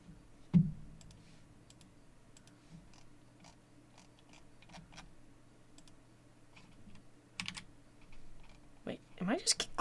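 Computer keyboard typing and mouse clicks at a desk, sparse irregular taps and clicks spread over ten seconds, with a busier burst of keystrokes near the end over a quiet room hum.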